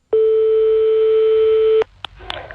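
A telephone tone on a prank call: one steady, clear ring tone lasting under two seconds, then a few faint clicks on the line.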